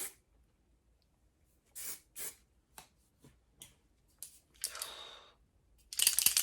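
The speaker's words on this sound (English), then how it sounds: "So we're going to spray it, some hairspray." Short bursts of hairspray hiss in quick succession onto curled hair, several brief puffs followed by a longer, louder spray near the end, close by.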